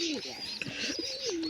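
Pigeons cooing close by, soft rolling coos overlapping with light chirps in a brief continuous stretch, with a voice faintly in the background.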